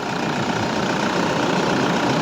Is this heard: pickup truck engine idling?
yes